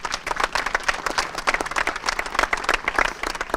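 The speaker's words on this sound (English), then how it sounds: "Let's have a warm round of applause for that distinguished group." A graduation ceremony audience claps and applauds in a steady, dense burst of many hands, continuous and fairly loud throughout, with no talking over it.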